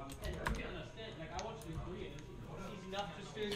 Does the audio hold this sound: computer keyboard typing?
yes